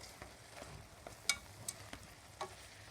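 Chicken and bacon simmer in a small, crowded pan, more boiling than frying, with a soft, steady sizzle and a few faint clicks of a utensil stirring close by.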